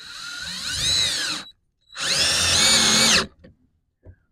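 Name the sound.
power drill driving screws into wood for a deer feeder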